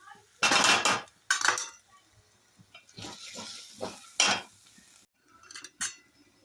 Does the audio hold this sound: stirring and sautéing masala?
yes